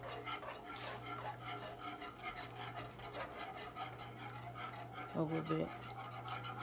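Alfredo sauce being stirred as it simmers and thickens in a pan, a steady close rasping scrape running throughout under a constant low hum, with brief speech near the end.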